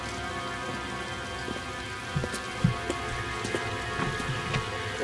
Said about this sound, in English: Oh, great, it's raining again.